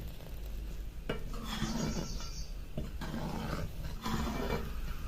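A ladle stirring boiling green pea curry in a pot, giving a few bursts of scraping and clinking against the metal with bubbling in between, close and moderately loud.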